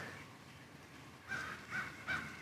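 Crows cawing outdoors, three harsh calls spaced about a second apart over faint background hiss, moderately distant.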